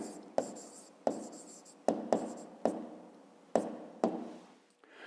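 Pen or pencil strokes scratch across paper as a math answer is handwritten, a sequence of about eight short scribbling bursts separated by brief pauses, close and fairly quiet with no talking.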